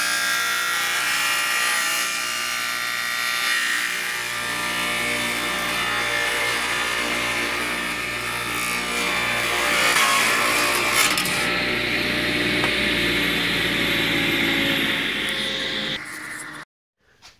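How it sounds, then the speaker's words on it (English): A power saw rips through a 1.5-inch-thick scrap piece of wood in one long steady cut, a loud continuous grinding whine that holds for many seconds before cutting off abruptly. "So I set up my saw, fire it up, and we're gonna run it through."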